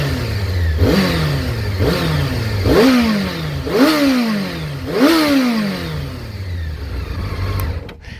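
A 2006 Honda CBR 600 F4i motorcycle engine with about 30,000 km revs repeatedly in a workshop. Five sharp throttle blips climb and fall back to a steady idle, loud and close, with no talk.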